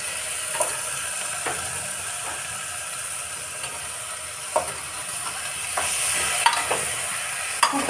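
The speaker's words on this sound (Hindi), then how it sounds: "अब मैं यहाँ पे सब्जी डाल रही हूँ।" Chopped ridge gourd tipped into a hot pan, sizzling steadily while a spoon scrapes and stirs in scattered clinks and scratches, fairly quiet and close.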